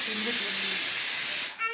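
A pressure cooker cooking pav bhaji lets off a loud, steady hiss of escaping steam that runs for over a second before cutting off, followed by a brief whistle-like tone.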